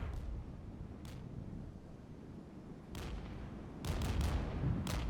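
Weapons firing in the Regiments wartime strategy game, a few distant muffled booms and sharp cracks over a low rumbling battlefield, with a small cluster of shots near the end.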